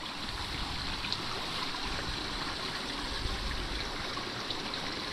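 Spring water flows steadily at a rural farm site, a continuous broadband rush like a stream, fairly close and even in level with no talk over it.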